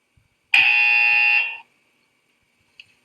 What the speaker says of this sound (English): The buzzer was played to alert the driver and wake him up since his eyes were shut.